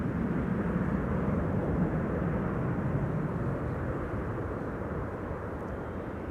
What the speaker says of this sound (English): Just landed with KM Malta.